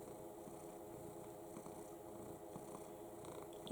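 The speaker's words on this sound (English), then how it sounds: "but he's purring away." Cat purring in a steady, soft, low rumble held close, continuous and faint throughout with no talking.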